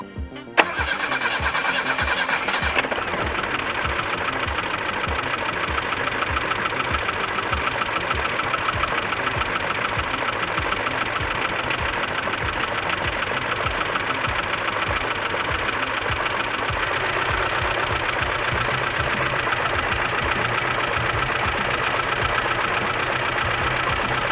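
A 1988 ZAZ Tavria car engine cranks and catches, then runs steadily for over twenty seconds with one dead cylinder, a loud, uneven, knocking idle close to the microphone with no talking.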